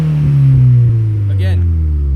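A 2018 Subaru WRX fitted with a GrimmSpeed turbo inlet and a Nameless Performance blow-off valve gives a loud, close engine drone as it is revved in first gear. A brief burst near the end suggests a whoosh, and voices talk over it.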